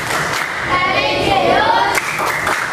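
A classroom of pupils claps in unison along to the PPK clap chant, a burst of group handclaps mixed with children's chanting voices.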